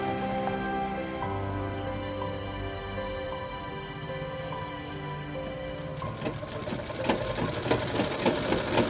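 A sewing machine stitching an alteration on a readymade coat runs steadily with a continuous whirring hum, then shifts to faster, rattling stitch bursts toward the end, close and without talk.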